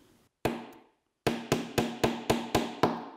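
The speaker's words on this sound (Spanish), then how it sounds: "Voy a utilizar un martillo y me ayuda a meterlos." A hammer taps small pins into a wooden magnetic saw guide: one sharp strike, a pause, then a quick run of six evenly spaced knocks, close and crisp with short ringing decays.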